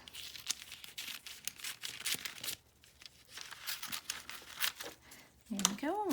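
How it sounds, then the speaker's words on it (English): Scissors snip and rustle through carbon paper as it is trimmed around a lettering design taped to it, papery crinkles and cuts up close, ending in a sharper crinkle. "I'm gonna trim off this piece of carbon paper"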